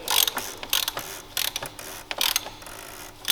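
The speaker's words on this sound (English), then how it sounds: "another piece of equipment that you will need is a torque wrench" A torque wrench ratchets on an oil filter housing in quick clicking bursts, several short pawl-and-gear runs close to the ear with brief gaps, no voices.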